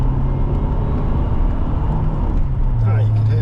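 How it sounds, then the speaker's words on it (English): Supercharged car cruising on the A68 road, with a steady engine drone and a low tonal whine that strengthens near the end, heard from inside the cabin. "Ah, you could hear the supercharger."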